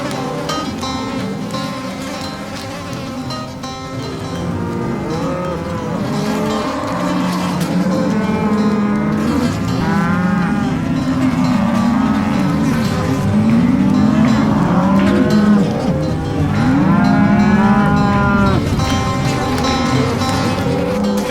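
Cattle lowing with repeated drawn-out moos over a dense, busy herd background on a farm, loud and continuous with overlapping calls.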